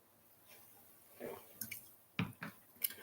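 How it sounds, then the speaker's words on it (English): Someone sips and swallows water from a glass in a quiet room, giving a few soft wet gulps and faint clicks, close and low in volume. "Just going to drink my water here."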